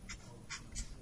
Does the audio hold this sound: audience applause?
no